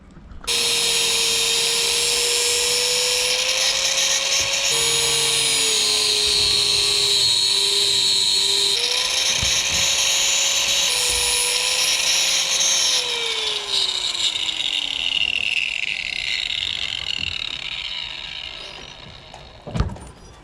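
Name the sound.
angle grinder grinding a part on a boat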